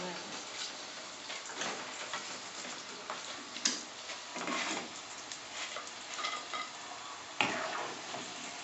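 Korean spicy squid being stir-fried in a pan, a soft continuous sizzle with light scraping and stirring clatter, fairly quiet throughout, with faint talking.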